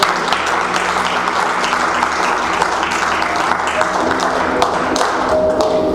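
A church congregation claps continuously at a steady density, a dense wash of applause with no voices standing out.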